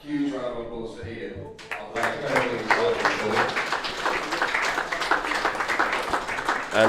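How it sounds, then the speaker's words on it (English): Audience at a motion-design meetup applauding for Ian, the clapping swelling up after a brief spoken lead-in and continuing as a dense, steady patter of many hands. "Can we get a huge round of applause for Ian?"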